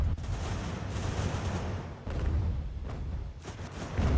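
Musket volleys in the video game Ultimate General American Revolution, a continuous rolling crackle of distant massed gunfire with occasional louder booms, without speech.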